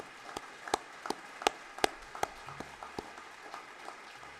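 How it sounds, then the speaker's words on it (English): Sparse, faint clapping at a senior awards day ceremony, a few distinct claps spaced out irregularly, as from only a handful of people applauding at a distance. "Let's give them another round of applause"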